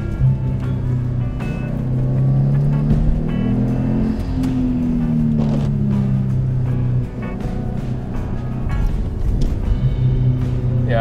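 Subaru WRX STi engine revving and dropping as it downshifts during driving, loud in-cabin engine tone sweeping up and down under steady road noise.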